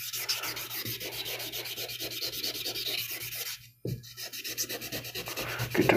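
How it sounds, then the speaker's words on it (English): Steady abrasive rubbing as a sharpening stone is flattened on 320 grit sandpaper, sanding strokes continuous and close with one brief pause near the middle, no voices. "this 320 grit sandpaper that I'm using, you've seen what it's doing."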